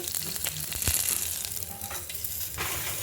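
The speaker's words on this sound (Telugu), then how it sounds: "పచ్చిమిరకాయలు వేయించుకుంటున్నాను" Green chillies fry in hot oil with a steady, close sizzle and a few stirring scrapes, no voices present.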